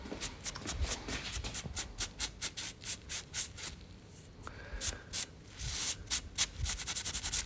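A shop rag rubs briskly back and forth over a locomotive camshaft, a quick series of soft, close scrubbing strokes with a short pause midway.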